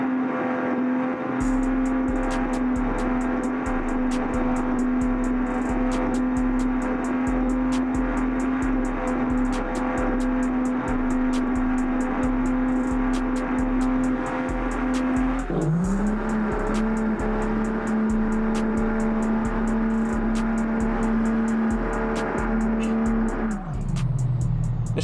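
A rebuilt 1100 horsepower Cummins diesel truck engine roars loudly and continuously, holding a steady drone before dipping and climbing again in pitch as it accelerates hard, with no talk over it.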